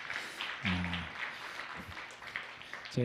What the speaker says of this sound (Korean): 수고하셨다고 박수하겠습니다